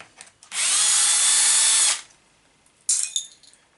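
Close and loud, a power drill whirs steadily for about a second and a half while removing skid plate screws from a Traxxas E-Revo RC truck, then a second shorter burst follows after a pause, with no talking.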